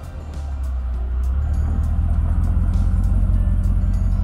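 A vehicle grinds slowly down a rutted hill trail at Coppinger Cove near Tracy City, Tennessee, its engine a steady loud low rumble with faint clunks and rattles over the ground.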